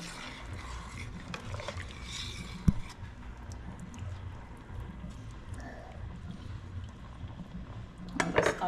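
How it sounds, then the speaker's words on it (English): Rice stirred in a cooking pot for stew peas and callaloo rice, with soft scraping and occasional metallic clinks of a spoon against the pot under a low background hum. "just put the rice in and just give it a stir"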